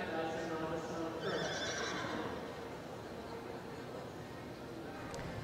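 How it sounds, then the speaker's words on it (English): A horse whinnies in an indoor arena at a youth horse show, with hoof clops and an announcer's voice running underneath, heard from a moderate distance amid steady crowd and arena noise. "We have set up horses to work in our return practice"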